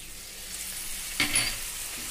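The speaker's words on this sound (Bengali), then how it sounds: "সমস্ত মশলা খুব ভালো মতো কষিয়ে নিতে হবে। এবার দিয়ে দিচ্ছি আদা জিরে বাটা।" Ginger-cumin paste hits a hot pan of spices with a sudden loud sizzle burst, then settles into a softer steady frying hiss under light stirring.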